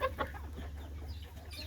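Chickens clucking softly in a backyard coop, faint scattered clucks over a steady low hum.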